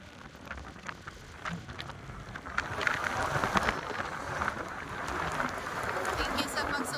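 Heavy rain pours in a steady, dense hiss, near and constant, swelling slightly partway through, with no speech over it.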